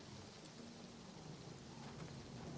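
Steady, dense video game rainfall in Elder Scrolls IV: Oblivion Remastered with a low rumbling undertone of thunder, continuous and fairly quiet, with no voices.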